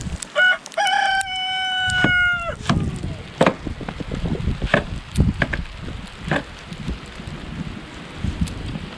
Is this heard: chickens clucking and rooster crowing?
yes